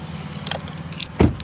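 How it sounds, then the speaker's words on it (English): Keys jangle briefly near the microphone outdoors beside a parked car, a short metallic rattle with a louder clink toward the end over faint background hum. "Let me grab my keys."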